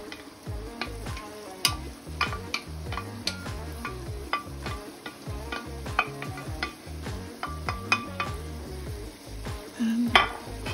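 Saltfish and calaloo stirred in a pot, with a busy run of utensil clinks and scrapes against metal over a soft background sizzle, close and fairly quiet, no talking.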